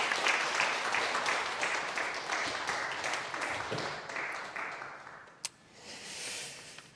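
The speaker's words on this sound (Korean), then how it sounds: "우리 다같이 박수하겠습니다" A church congregation claps together in sustained, dense applause that gradually thins and fades, with a single sharp knock near the end and a softer swell of clapping afterward.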